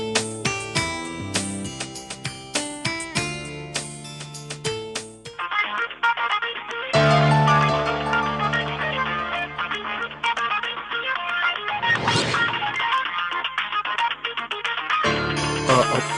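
A phone ringtone plays loudly as a repeating electronic melody, its tune shifting partway through and carrying on without pause.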